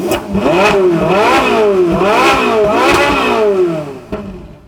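A Ferrari 458 Spider's 4.5-liter V8 revs hard, about four loud blips that rise and fall in pitch before settling, heard up close with no talking.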